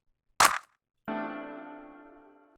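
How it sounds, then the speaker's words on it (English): In an Ableton beat, a sharp, crisp clap sample cracks once, followed a moment later by a snare hit whose ringing tonal tail fades slowly. Both sound loud and up close with no other sounds. "I'm just gonna layer this clap with this snare because this clap sounds crazy."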